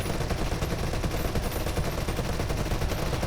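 Sustained machine gun fire from a Vickers Mk.3 tank in the War Thunder video game, a dense, continuous rattle of rapid shots at steady loudness throughout with no pauses.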